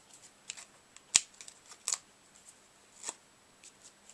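Close, quiet snips of scissors trimming seam binding on a handmade ornament keepsake card. A few crisp cuts are scattered among faint paper handling.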